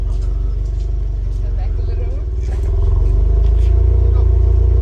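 A Subaru WRX VB with its stock muffler idles after startup, a steady, deep exhaust rumble close by that rises slightly in level partway through, with voices talking over it.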